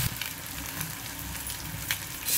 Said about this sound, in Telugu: అల్లం వెల్లుల్లి పేస్ట్తో పాటు ఇది కూడా 2 నిమిషాలు బాగా ఇట్లాగా వేయించామంటే